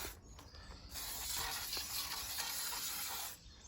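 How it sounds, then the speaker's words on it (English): Aerosol lubricant sprayed onto caravan running gear, a sustained close hissing burst of about two and a half seconds, starting and stopping abruptly, with no talk. "Just give the inside a spray."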